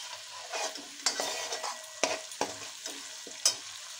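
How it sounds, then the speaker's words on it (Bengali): A spice paste of turmeric, cumin and coriander powder mixed with water sizzles in a frying pan as it is stirred and fried. A spoon scrapes the pan close by in repeated strokes, with a few sharper knocks. "মশলাটাকে ভালো করে কষিয়ে নেব"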